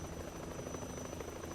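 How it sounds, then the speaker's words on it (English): A helicopter in the video game Yakuza 3 gives a steady, continuous rotor drone with a thin high whine, filling the whole short stretch with no talking. "That's the second time she's been in a helicopter watching Kiryu fight on a rooftop."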